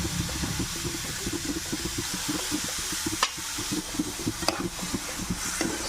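Coconut, sugar and milk being sautéed together in a pan for rava laddu give a steady low sizzle with scattered stirring scrapes and a couple of sharper clinks, all close and fairly quiet.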